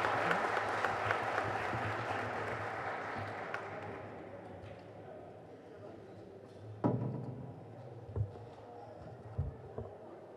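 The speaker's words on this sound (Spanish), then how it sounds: "Un gran aplauso para recibir a los integrantes de la orquesta musical" An audience claps to welcome a school orchestra at an education day event, fading from moderate applause to scattered claps with a few thumps near the end.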